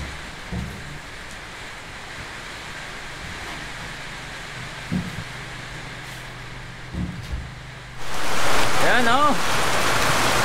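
Heavy rain pours steadily as a broad hiss, with a few knocks and a brief spoken word, then grows louder and closer at the end.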